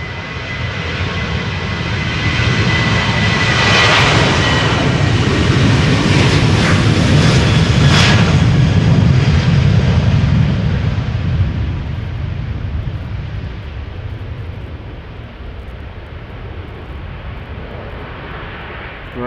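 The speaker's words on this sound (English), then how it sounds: "time for the second 737, which will be going to Manchester" Boeing 737 jet taking off from the Polderbaan runway at Schiphol, bound for Manchester: a loud, close engine roar that swells as the aircraft passes, then slowly fades into the distance.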